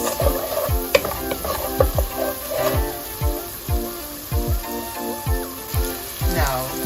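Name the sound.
curry with pig's tail cooking in a pot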